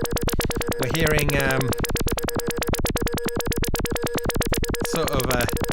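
A Eurorack modular synth with LFOs modulating the resonance of a Sea Devils filter gives a loud, rapid pulsing tone with sharp resonant sweeps, while someone talks over it.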